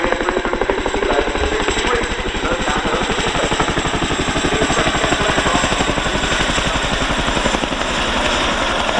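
An RAF Chinook twin-rotor helicopter flies a display at an air show, its loud steady blade slap thudding in a rapid rhythm close by, with a faint voice underneath.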